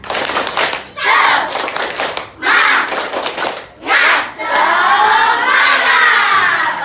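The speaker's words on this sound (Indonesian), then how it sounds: "Tepuk semangat Angel, biar semangat semuanya" A classroom of children doing a rhythmic spirit clap chant, bursts of group clapping alternating with loud shouted chanting in several phrases, ending in a long sustained group shout, close and energetic.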